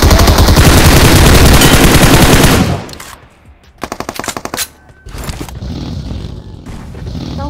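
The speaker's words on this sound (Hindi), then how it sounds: "जैसे ही मैंने गोली चलाई तो चारों तरफ से धड़ाधड़ गोलियां चलने लगी" Gunfire from all sides in the BGMI battle royale video game: a loud, dense burst of rapid automatic fire that cuts off, then a shorter rattling volley and scattered shots over lingering game ambience, with no talk.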